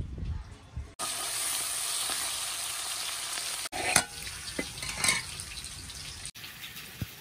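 Eggplant (brinjal) slices sizzle steadily in a hot pan, a close, continuous frying hiss broken by a few scraping stirs and clinks of the spatula.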